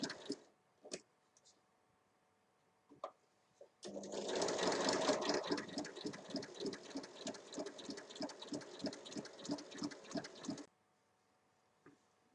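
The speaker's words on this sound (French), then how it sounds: "on va venir assembler tout le tour en laissant une ouverture de 8 cm. La valeur de couture est de 1 cm et on fait un point d'arrêt" A sewing machine stitching the seam around a tote bag, running steadily and rhythmically for about seven seconds, with a few faint clicks and handling sounds before and after.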